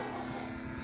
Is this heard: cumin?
no